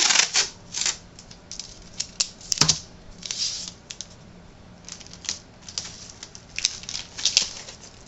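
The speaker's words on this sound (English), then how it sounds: "Taping the corners." Masking tape is pulled and pressed onto the corners of a flat cardboard package, making sharp intermittent crackles, tears and taps close by, spread irregularly through the quiet with no speech.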